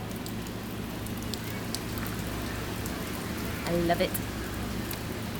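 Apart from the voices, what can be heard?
heavy rain falling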